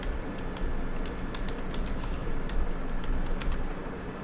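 Computer keyboard typing, a steady run of quick, light key clicks close by, with no talk over it.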